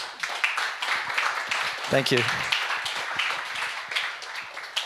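Scattered clapping from a conference audience, moderately loud and somewhat sparse, with someone speaking over it.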